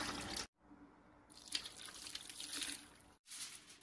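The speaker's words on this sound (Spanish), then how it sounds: "Le agregamos dos tazas de agua de este tamaño." Water poured from a cup over sliced squash with cinnamon in a cooking pot: a steady splashing pour lasting a couple of seconds, close and moderately loud, between short breaks.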